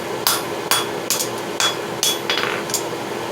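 Hammer blows ringing on an anvil while forging a railroad spike into a bearded tomahawk, about seven sharp metallic strikes at an irregular steady pace, close and clear.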